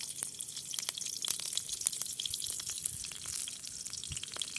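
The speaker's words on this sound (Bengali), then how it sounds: "তেল গরম হলে দিব দুটো কাঁচা লঙ্কা" Two green chillies sizzle in hot oil in a wok, a steady close crackle with dense popping spits and no voices.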